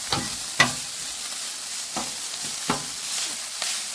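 Homemade hibachi frying in a pan with a steady sizzle, broken by a few sharp scrapes and clacks of stirring at irregular intervals, close up and with no talk.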